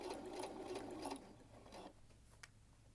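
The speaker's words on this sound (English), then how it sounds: "I'm stitching pretty close to my folded edge right here." A sewing machine stitches a tea towel close to its folded edge, giving a quiet, rapid mechanical chatter for about a second, then a few slower, fainter stitches that trail off.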